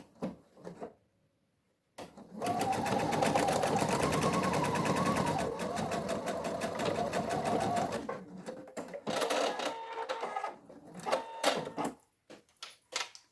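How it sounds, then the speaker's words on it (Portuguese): A sewing machine stitches fabric closed through a clutch bag clasp, running in a steady rapid mechanical whir for several seconds, then a shorter run followed by clicks and handling noises. "agora, eu já passei o tecido dentro do mosquetão e vou passar uma costura para fechar."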